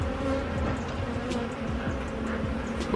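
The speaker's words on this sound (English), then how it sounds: "there are bees coming home, and those are the ones that are creating the commotion, like right here" Honey bees buzz around an open beehive, a dense, steady swarm hum close by with individual bees droning past. No voices are heard.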